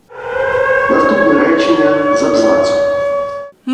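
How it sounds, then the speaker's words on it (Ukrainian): A loud air raid siren in Ukraine wails steadily with a sustained rising and falling tone, then cuts off abruptly near the end. "Третій раз українці робили це під звуки повітряної тривоги."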